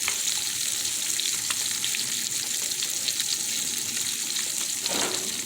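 Chicken thighs pan-frying and browning, a loud, dense, continuous sizzle and crackle close up, steady throughout with a brief scrape near the end.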